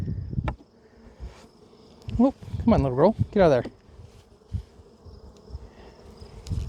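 Honey bees buzz close by during a hive inspection, a busy droning hum with a few louder passes near the microphone, while a person talks softly.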